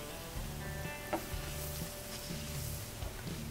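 Onion, tomato, green chilli and ground sambar powder sauté in a pan with a steady, quiet sizzle, broken by a few soft stirring scrapes. No voices are heard.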